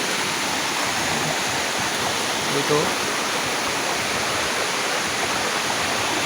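A stream flooded with muddy water after heavy rain rushes in a steady, dense roar that fills the whole clip at close range, with a brief voice heard over it.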